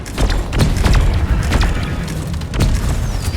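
Breach cutter weapon firing in the video game Deep Rock Galactic, a few heavy booming blasts at roughly one-second intervals, loud and close over a dense rumbling game backdrop.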